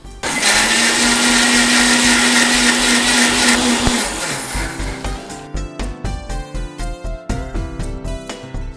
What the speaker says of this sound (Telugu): సో మిక్సీకి వేద్దాం